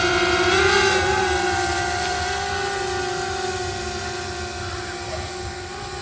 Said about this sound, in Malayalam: നമ്മൾ ഡ്രോൺ പൊക്കാൻ പോട്ടാ.